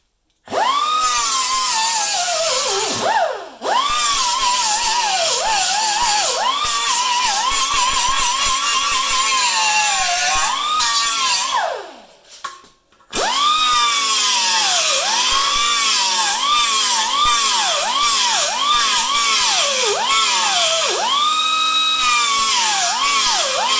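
Coarse abrasive disc on a power grinder working 18 gauge sheet steel for a rear valance patch panel on a 1973 Ford Ranchero GT, a loud high whine rising and dipping in pitch with each pass, briefly pausing twice.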